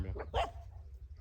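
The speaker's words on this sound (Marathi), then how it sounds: "लहान लहान कुत्रे बोकू राहिले" Small dogs give a quick burst of two or three sharp, high yapping barks close by, outdoors, the whole flurry lasting barely over a second.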